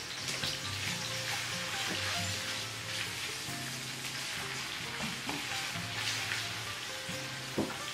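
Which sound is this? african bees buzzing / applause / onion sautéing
onion sautéing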